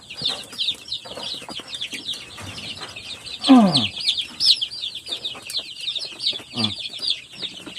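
A small red young rooster clucks repeatedly at close range, with short bursts and one louder squawk midway, over steady chirping birds in the background.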